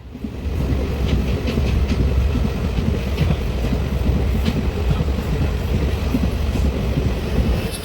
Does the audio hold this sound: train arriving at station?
yes